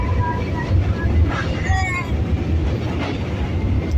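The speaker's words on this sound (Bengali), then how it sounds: "এই যে ট্রেনে উঠে গেছি আমরা" A moving train rumbles with a steady low roar and faint wheel noise on a cold, foggy morning near the Ganges, with passengers talking over it.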